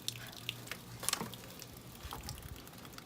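Leftover water drains from an outdoor spigot being repaired, giving faint, scattered drips and light patters against quiet outdoor background noise.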